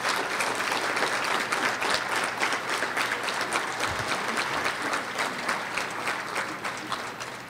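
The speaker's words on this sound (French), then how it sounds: "Oui, on peut l'applaudir." A crowd claps steadily through a political speech event, loud dense applause that stays strong throughout and eases off slightly toward the end.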